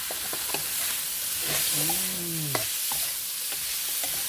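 Ingredients for a spicy fish stir-fry are dry-roasted in a pan, giving a steady close sizzle broken by sharp spatula taps, with a brief tonal squeal partway through.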